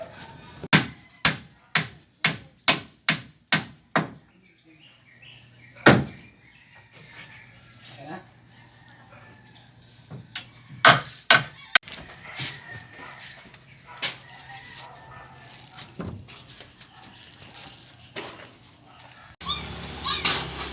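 Sharp hammer blows strike wood in a quick series of about ten, then pause, then resume in irregular bursts, on a construction site during concrete pouring day, with birds chirping faintly in the background.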